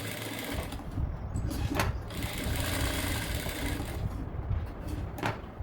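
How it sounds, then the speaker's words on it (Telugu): A domestic sewing machine stitches the shoulder seam of a high-neck blouse, joining the front and back pieces in a continuous close whirring run, with a couple of short sharp knocks from the machine partway through. "బ్యాక్ పార్ట్ మీద దీన్ని ఇలా రివర్స్లో పెట్టుకొని షోల్డర్ దగ్గర కుట్టు వేసుకోవాలి"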